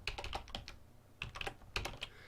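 Quick bursts of clicking keystrokes on a computer keyboard, typed in three short runs with brief pauses between them, close and fairly quiet.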